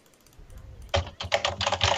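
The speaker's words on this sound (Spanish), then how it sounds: "Se escucha tu teclado a muerte" Computer keyboard typing during a League of Legends ranked match, starting with faint clicks and then bursts of loud, rapid keystrokes close to the microphone.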